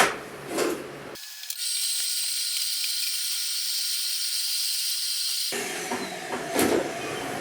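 A shop-style vacuum runs steadily for several seconds with a loud, even hiss and whine while cleaning out an attic, starting abruptly and cutting off just as suddenly, with faint rustling before and after.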